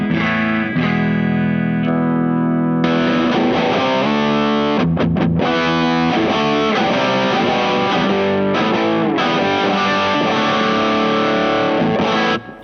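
Electric guitar on its neck pickup at full volume, driven through a Dazatronyx TSX overdrive pedal, plays loud distorted chords and riffs continuously for the whole stretch with no talking, cutting off abruptly at the end.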